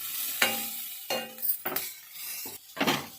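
Rice with cream of mushroom sauce is stirred in a pan with a metal utensil, making a run of close scrapes and light clinks in short, uneven strokes against the pan.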